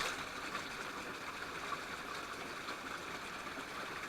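Water flows through a garden cave on Madeira where it had not run before, making a steady, close rushing and gurgling that continues unbroken throughout with no voices.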